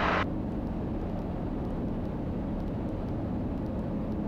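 A KitFox light aircraft's engine drones steadily in flight, a loud continuous roar with wind noise filling the cockpit throughout.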